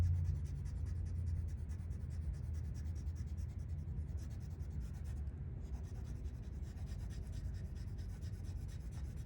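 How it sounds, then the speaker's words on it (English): A light brown colored pencil shades lightly across paper, giving a steady, close, continuous scratchy rub with a slight rhythmic stroke texture and no talking. "And we're just gonna lightly color the top of this."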